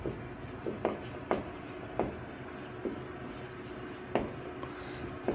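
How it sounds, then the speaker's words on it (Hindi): Chalk or marker writing a physics definition on a classroom board, with scratchy strokes and sharp taps at an irregular pace, close and clear over quiet room tone without speech. "अब जरा डेफिनेशन लिख लेते हैं"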